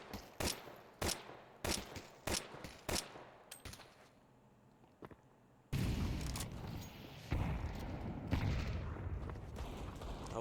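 Gunfire in Counter-Strike 2 during a match: a series of sharp, spaced single shots, then a sudden loud burst of sustained rapid firing and booming that continues to the end.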